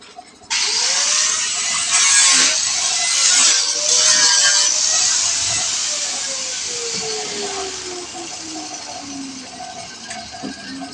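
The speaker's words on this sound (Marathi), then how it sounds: "हा CNC रोटर आहे." A CNC router at a timber yard in India cuts clean planks from teak wood, giving a loud, close, sustained hissing whine with a wavering motor tone that gradually settles, the cutting noise starting abruptly after a short quiet moment.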